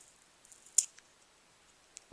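A few faint, sharp snips of scissors cutting a foam sticker in half, spaced apart in a quiet room, one crisp cut standing out louder than the rest.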